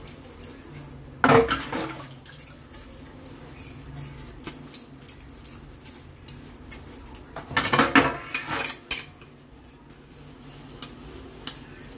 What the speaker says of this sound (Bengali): বাসন কটা মেজে নিই।